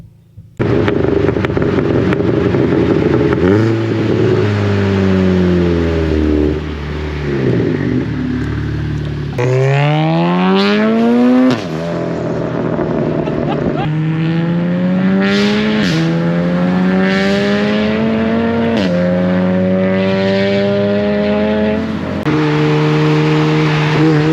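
A Volkswagen Golf R drag race car revs very loud and close, its engine note climbing and falling through repeated rising sweeps of acceleration with no pauses.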